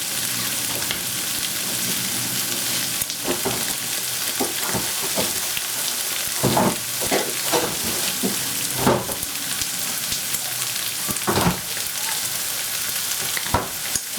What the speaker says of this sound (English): I'm just going to let this cook for about 5 minutes just to let it all season